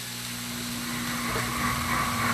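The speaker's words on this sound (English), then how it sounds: "There's the blender going at it again, cleaning itself" A blender motor whirs steadily at close range while cleaning itself, a constant hum growing slightly louder and more whining toward the end.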